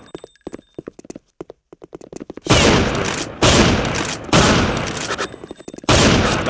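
Video game gunfire in an indoor room-clearing shootout, a run of light rapid clicks followed by several loud, sustained bursts of automatic fire separated by short gaps.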